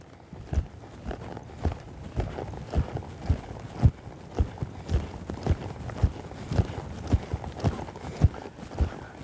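A horse lopes under saddle through a flying lead change, its hoofbeats landing in a steady three-beat rhythm of close, distinct thuds that repeat evenly across the whole stretch.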